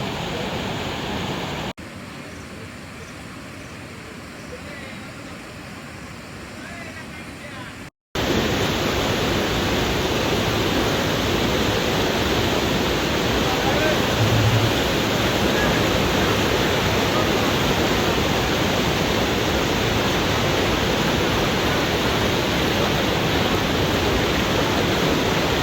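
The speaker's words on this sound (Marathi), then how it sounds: "मंडळी पेठमध्ये पूर आलेला आहे" Floodwater rushing in a town street, a broad steady roar of moving water, quieter at first and then loud and continuous for most of the stretch.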